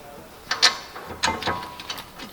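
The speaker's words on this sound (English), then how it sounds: "We're going to tighten those down. You just run them down." A ratchet runs down the caliper bracket bolts during a front brake job on a 2018 Volkswagen Atlas, giving two short bursts of rapid clicking, close and fairly clear, with no talking.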